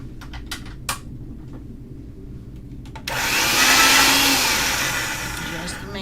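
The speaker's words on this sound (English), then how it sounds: "And I'll get it through the pasta machine on the thickest setting." A pasta machine rolling material through its rollers on the thickest setting, making a sudden steady mechanical whirring hum that starts midway, after a few light taps and clicks, and gradually fades.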